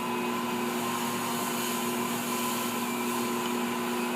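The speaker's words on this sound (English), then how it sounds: "This is a walk in the park for this mixer." An Assistent Original stand mixer kneading dough runs with a steady, close, even motor whir and hum that holds level throughout, with nobody speaking.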